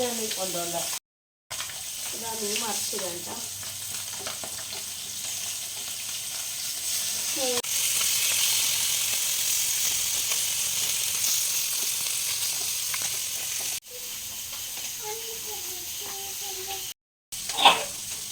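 Fish fries in a pan, with a steady close sizzle and intermittent sharp spattering pops. A person speaks over it at the start and end, and the sizzling grows louder and more even in the middle.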